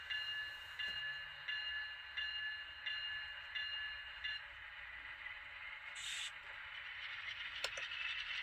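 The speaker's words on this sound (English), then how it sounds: "our Union Pacific GEVo is actually now pulling a set of Kato passenger cars and some auxiliary tenders" A Scaletrains GE Tier 4 GEVo ET44 model locomotive in Union Pacific colours runs with Kato passenger cars, its motor whining steadily with a regular clicking rhythm over the track. A brief scrape and a sharp click come near the end.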